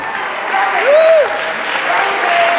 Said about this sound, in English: Y'all give another round of applause for Kevin Harvey Arms.